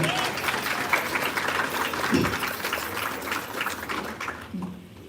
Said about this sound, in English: please give my family a round of applause for coming out